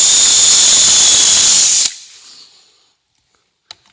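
A power drill bores into a Prologic quick-change bankstick adapter collar with a loud, high whine that stops abruptly and fades out, followed by a couple of small clicks.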